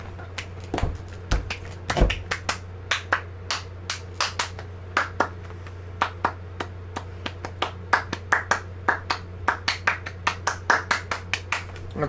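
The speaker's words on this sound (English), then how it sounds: "I should probably stop clapping like randomly" Hands clapping up close in scattered, irregular bursts of sharp claps, some quick runs and lone single claps, loud against a quiet background with a low steady hum.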